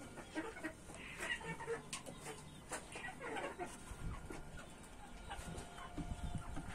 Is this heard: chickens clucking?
yes